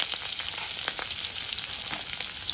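Chopped onion frying in hot oil in a wok with nigella seeds, bay leaf and green chillies, a steady loud sizzle crackling close by for the whole stretch, with no voices.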